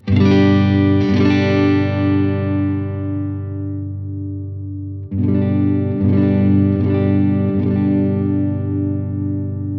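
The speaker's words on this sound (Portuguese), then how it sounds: "Ele vem cortando as frequências, como se fosse um low pass, lá de cima até você tirar as frequências agudas." Sustained distorted electric guitar chords, tone knob rolled down, ring out with a dull, muffled tone lacking treble, struck a few times with long decays in between.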